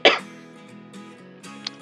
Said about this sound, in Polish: Przepraszam, kaszla.